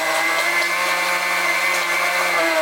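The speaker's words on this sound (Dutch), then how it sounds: "dit is mijn blender" A blender runs while a cake is being baked, giving a loud, steady whirring drone with a constant pitch for the whole stretch and no voices over it.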